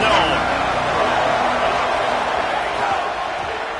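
Stadium crowd noise from a Penn State vs Michigan college football game, a loud, dense roar of cheering fans sustained throughout, with broadband rumble and occasional shouts.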